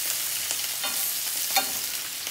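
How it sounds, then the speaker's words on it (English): Fish sealing in a pan of hot oil over medium heat, a steady loud sizzle with faint stirring or turning sounds, close by and without talk. "My mom is frying the fish on a medium heat, just turning the sides around and just sealing the fish basically."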